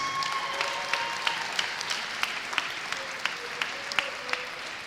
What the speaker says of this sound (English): another round of applause for silver medalist St.